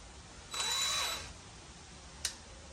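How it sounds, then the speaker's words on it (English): A small electric drill with a small bit whirs in a short burst of under a second while drilling out spot welds on a 1969 Dodge Coronet, followed by silence and a brief second blip near the end. "to drill these out with this little drill with this little bit"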